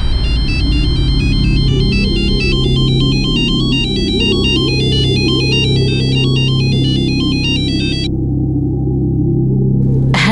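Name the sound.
phone ringing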